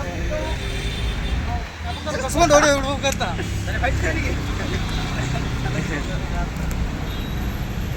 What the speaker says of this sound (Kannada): ಟ್ರಾಫಿಕ್